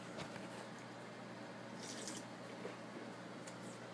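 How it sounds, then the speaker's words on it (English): Croy sparkling water fizzes with a faint, steady crackling hiss of bubbles and a few soft drips, close and quiet. "Sparkling water with Croy."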